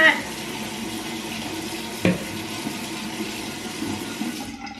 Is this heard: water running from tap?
yes